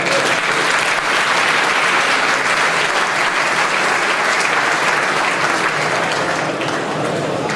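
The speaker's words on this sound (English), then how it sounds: "So, round of applause for those who solved it." Keynote audience at a startup summit applauds those who solved a letter-counting puzzle: a steady, loud wash of many clapping hands sustained evenly throughout, with no talking.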